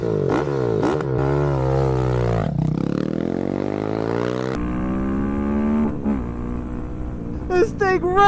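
A stock 2024 KTM 690 SMC R single-cylinder motorcycle revs loudly and close by, its engine note sweeping up and down through gears over several seconds, with a few sharp blips toward the end.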